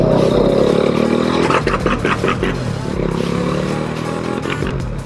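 An overheating motorcycle engine runs rough and out of tune, its loud, uneven drone rising with revs and falling away, with clattery mechanical noise over the top.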